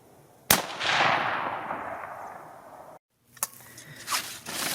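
Rifle fired at target practice during Nebraska rifle season, a single sharp, loud outdoor crack with a long rolling echo fading over a couple of seconds, then a second fainter report and some handling noise.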